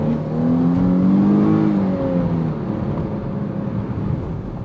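A 2021 Chrysler 300 with a V6 accelerates from inside the cabin, engine note rising steadily in pitch over a constant road roar, then settling into a smooth cruising drone.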